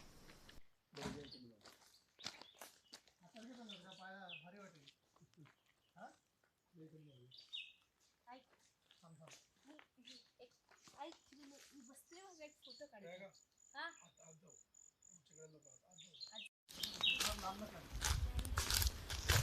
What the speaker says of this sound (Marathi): केवळ पक्ष्यांचे आणि पायाखाली वाळलेल्या पानांचा आवाज आपल्याला ऐकू येतोय